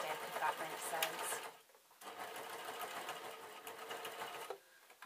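A sewing machine stitches a Vax mop replacement cover in close, rapid whirring runs, stopping briefly twice between bursts of stitching.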